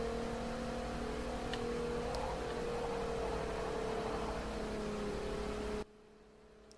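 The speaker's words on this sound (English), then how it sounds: "Listen to that engine." A video game car engine in Forza Horizon drones at an even pitch for several seconds, loud and continuous, then cuts off abruptly into near silence.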